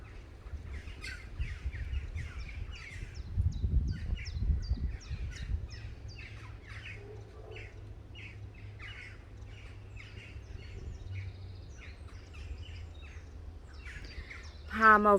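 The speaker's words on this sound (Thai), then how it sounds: "นั่งตากลม สวนหลังเฮือน ฟังนกร้องเพลงให้ฟัง" Birds chirp and call in a backyard garden in short, scattered bursts, fairly faint, with a low rumble and a soft voice in the background.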